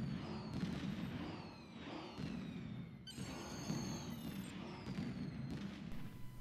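Fireworks at the Lohlunat Festival on Risa in Star Trek Online, with repeated booming bursts and whistling streaks at a steady pace over a constant loud ambient bed.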